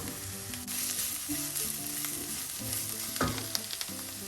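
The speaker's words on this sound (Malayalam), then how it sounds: "ഈ സമയം നമുക്ക് അരിഞ്ഞു വെച്ചിരിക്കുന്ന സ്പ്രിംഗ് ഒണിയൻ ചേർക്കാം." Sliced spring onion sizzles with grated coconut in a pan for spring onion thoran: a dense, steady frying hiss close by, with a few stirring scrapes and knocks over it.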